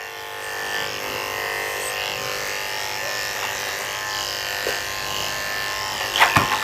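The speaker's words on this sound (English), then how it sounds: "I'm going to use my 30 blade to shave the inside of her ears and just leave it." Electric pet clippers with a 30 blade shaving the inside of an older Havanese dog's ears give a steady, close, thin buzz that hums on without pause, with a few small bumps near the end.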